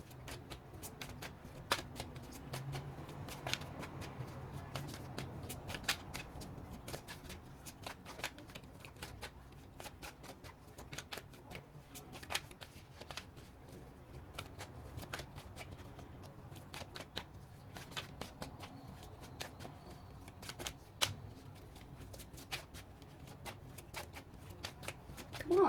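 A deck of tarot cards is shuffled steadily and close up for about 25 seconds, the papery riffles and slides coming in quick repeated bursts with no talking.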